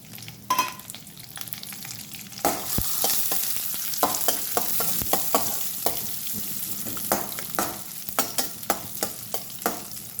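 Dry fruits sizzle in hot ghee while a spoon stirs briskly, producing a steady hiss punctuated by rhythmic scraping clicks against the pan.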